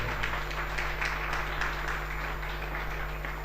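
Audience applause at a live music show, an even wash of many people clapping at moderate level, continuous from start to finish over a low steady hum.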